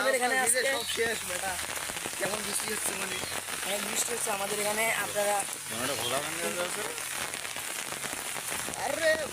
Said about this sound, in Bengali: প্রচণ্ড জোরে জোরে বৃষ্টি হচ্ছে দেখেন